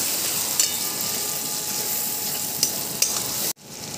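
Ash gourd stuffing with mustard-poppy paste and black cumin frying in a pan: a dense steady sizzle and hiss with a few small clicks, close and fairly loud, cutting off abruptly near the end.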